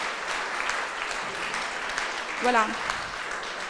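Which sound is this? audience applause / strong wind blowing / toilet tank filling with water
audience applause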